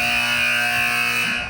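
Traditional fire station alarm alert tones blare in a steady, loud, sustained electronic tone with a slight warble, close and filling the space with no voices.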